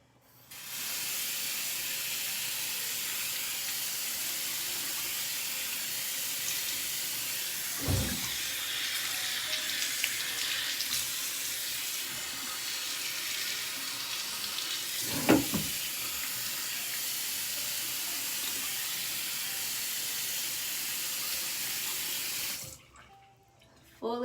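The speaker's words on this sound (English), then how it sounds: "So now I'm going to rinse." Water pours steadily from a tap into a sink while the face is rinsed, a broad continuous hiss with two brief louder splashes partway through before the flow stops near the end.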